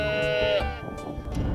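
Goats bleating in Mongolia, a clear, wavering call up close that fades out after about half a second, followed by quieter animal sounds.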